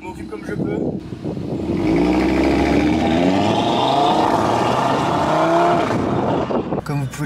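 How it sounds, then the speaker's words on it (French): An Audi RS3 driving on the road, its engine note rising and shifting as it pulls, heard from inside the car as a loud, steady drone with a brief quieter dip near the start. "Pour la petite histoire, là on est en train de rouler."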